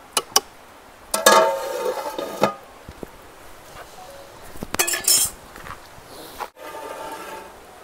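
Chicken pulao stirred in a pot at an outdoor picnic spot near a waterfall, with scattered metal clinks and scraping bursts, then a lid set down, heard fairly close against open-air background noise.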